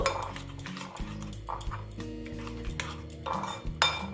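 A spoon stirs and scrapes spiced oil with red chilli powder in a metal pan, with repeated clinks and scraping knocks against the pan, close and moderately loud, over steady low kitchen hum and without talk.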